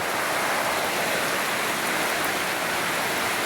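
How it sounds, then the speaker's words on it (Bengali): Heavy rain pours steadily and loudly outdoors as a dense, unbroken hiss with no voices over it. "এই দেখেন অনেক বৃষ্টি"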